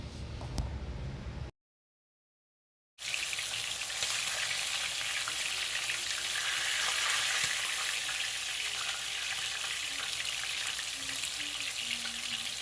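Steady, dense sizzling of garlic and ginger frying in hot oil in a pot until burnt, loud and close, continuing without pause after a brief silent gap.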